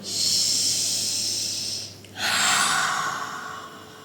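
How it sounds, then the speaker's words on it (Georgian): Forceful breathing exercise with vocal sound therapy: a long, loud rushing exhale, a brief pause, then a second strong breath, close and alone with no speech. "ინტენსიური სუნთქვა პლუს ბგერითი თერაპია"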